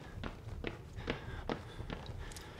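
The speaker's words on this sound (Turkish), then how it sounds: "Evet, ayak sesleri geliyor." Footsteps in the Outlast horror video game: a steady series of about five soft, evenly spaced steps over a low rumbling ambience, moderately close and not loud, with no voices.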